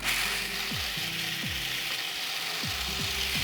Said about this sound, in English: Now, while they're still nice and warm, I'm going to get them into my food processor.